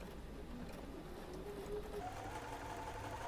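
A sewing machine pieces quilt blocks for an Alaska block-of-the-month sew-along, running as a steady, fairly faint mechanical hum throughout with no talk.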